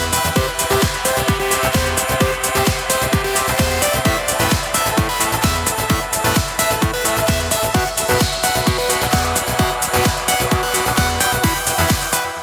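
A loud, dense trance track plays with no master bus compressor, full of steady pounding kick beats and bright layered synths that run without a break.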